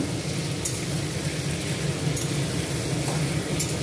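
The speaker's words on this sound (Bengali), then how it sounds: "এখন মাংসগুলি ছেড়ে দিতে, এখন সবগুলি মিশিয়ে নেব" Chicken pieces sizzle among fried onions in a pan while being stirred, a steady crackling hiss with a few soft clinks of the utensil against the pan, no voices.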